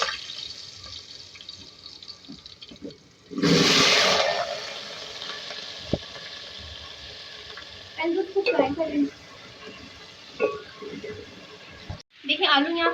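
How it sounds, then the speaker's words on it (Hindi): Potatoes frying in hot oil for an aloo anda salan give a steady soft sizzle, with a louder burst of crackling partway through and occasional stirring clatter in a home kitchen. "यहाँ आलू अंडे के सालन के लिए हम पहले आलू को फ्राई करेंगे।"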